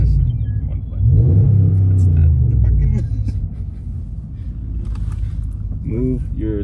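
A truck engine rumbles close by and revs up once in a deep drone, then settles to a low idle as people talk over it.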